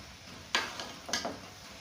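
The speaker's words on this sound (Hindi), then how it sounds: "यहाँ पे 1 चम्मच कुकिंग ऑयल भर के डाल देंगे और इसको कर लेंगे मिक्स।" Grated carrots are stirred with a spoonful of cooking oil for gajar halwa, giving two brief close scraping, rustling strokes about half a second apart against a quiet background.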